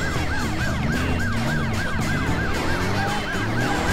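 A loud, continuous wailing ambulance siren in the video game Driver: San Francisco, with a rapid rising-and-falling pattern over a steady engine rumble and dense game background noise.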